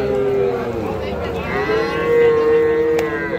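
Young cattle moo loudly at a muddy outdoor livestock market where small bulls and heifers are sold, one long drawn-out low call rising and holding close by amid crowd murmur.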